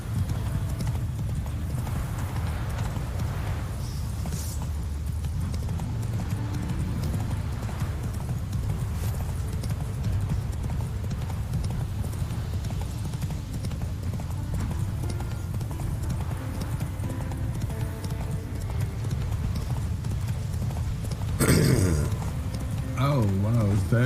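Roach, Geralt's horse in The Witcher 3: Wild Hunt, gallops with steady rhythmic hoofbeats under continuous game sound, someone talking over it, with a short sharp burst near the end.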